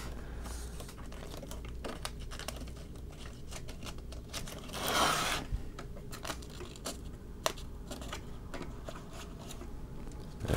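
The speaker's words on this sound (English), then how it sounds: "I'll just rip off the tape and get these windows here." Tape is peeled and torn off painted MDF terrain windows, quiet crackling and rustling strips with a louder ripping burst midway and scattered small clicks.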